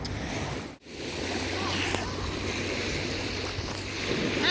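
Lake waves on Flathead Lake, Montana, wash steadily with wind buffeting the microphone, a broad continuous rush broken by a brief dropout near the start, with a low hum underneath.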